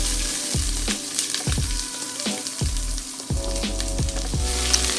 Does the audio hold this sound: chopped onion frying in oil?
yes